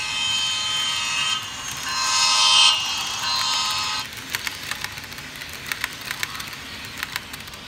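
An HO scale model Amtrak train with an ACS-64 locomotive sounds its horn in two steady, loud tones for about three seconds. After the horn stops, light clicking and rattling from the running model train continues.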